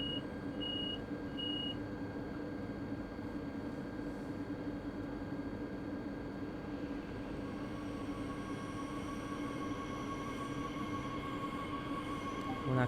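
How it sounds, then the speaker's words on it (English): A high-speed passenger train departing a station in Train Sim World 2, with a rumbling, droning run-up, a few short repeated beeps early on and rising whine tones as it gathers speed. "The train's departing now."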